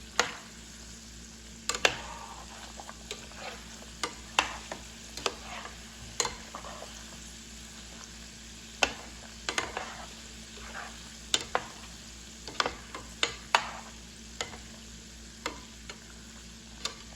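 Chicken wings frying in a pan while being stirred frequently, with a steady sizzle broken by repeated sharp clicks and scrapes of the utensil against the pan, close and alone without talk.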